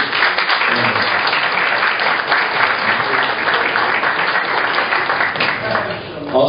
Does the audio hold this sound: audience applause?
yes